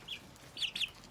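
Small backyard hens, including a little black and white flower hen, give a few soft clucks, one short call then two quick ones close together, faint and close by with no talking.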